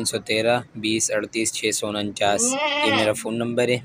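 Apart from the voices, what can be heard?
goat bleating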